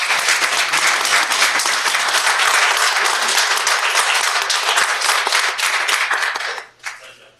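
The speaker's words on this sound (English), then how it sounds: "Let's give these folks a round of applause." A city council chamber audience breaks into full, dense applause that holds steady for several seconds, then fades out abruptly near the end.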